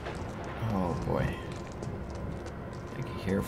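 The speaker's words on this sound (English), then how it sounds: "I can hear footsteps." Footsteps in the Resident Evil 3 Remake video game on Xbox One, a rapid knocking patter against busy game audio with vocal sounds and a low background rumble.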